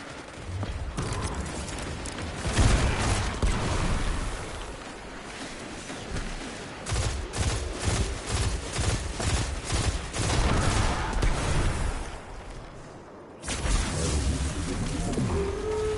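Pulse rifle fire in the Destiny 2 Onslaught game mode: dense, loud bursts of rapid gunshots repeating almost continuously, with a brief lull near the end before firing resumes.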